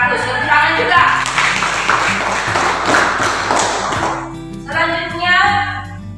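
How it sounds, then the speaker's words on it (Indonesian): Students in a classroom break into clapping at a teacher's call, a dense burst of applause lasting about four seconds before fading, followed by the teacher's voice speaking. "Tepuk tangan juga."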